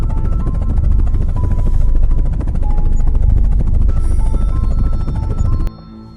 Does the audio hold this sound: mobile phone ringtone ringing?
no